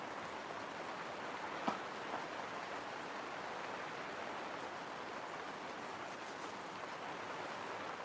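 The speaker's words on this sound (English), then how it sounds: "Listening to the rain?" Steady heavy rain hissing continuously, with a single brief knock partway through and no voices.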